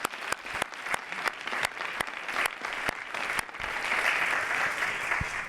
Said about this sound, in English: let's give a nice round of applause for the panelists